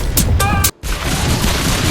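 A hero's skill in a mobile battle game fires a rapid burst of five gunshots, heard as a few sharp, loud blasts with a ringing tone, a brief gap of silence, then continued noisy rumble.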